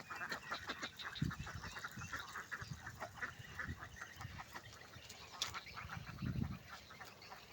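A flock of about 20 ducks, 18 females and 2 males, kept on a small duck farm, quacks and honks constantly in a dense, overlapping chorus at close range, with a few louder, deeper calls.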